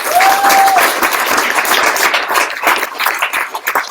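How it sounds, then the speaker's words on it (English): An audience at a UX apprenticeship event at Google in San Francisco breaks into a loud, sustained round of applause, with a brief whistle near the start and dense clapping that continues throughout. "Round of applause for that, by the way."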